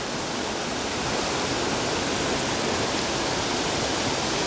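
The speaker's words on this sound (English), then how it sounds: "That's the first or the last waterfall, whichever way you come from, at Rosemarkie on the Fairy Glen." A waterfall in the Fairy Glen at Rosemarkie sends up a steady, broad rushing roar that stays loud and even throughout, with no voices over it.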